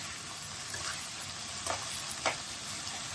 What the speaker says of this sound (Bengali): এইরকম আমার আলুটা এদিকে ভাজার কাজ চলছে